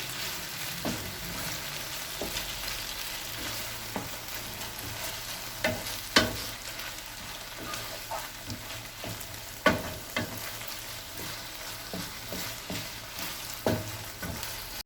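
Chicken with tomato paste sizzles steadily in a pan while a spoon stirs and mixes it, with occasional sharp scrapes and clacks against the metal.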